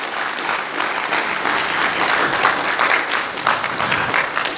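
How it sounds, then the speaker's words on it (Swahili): Steady applause from a crowd of guests at a gala dinner, dense clapping filling the room evenly for several seconds with no pause. "Tupige makofi tafadhali."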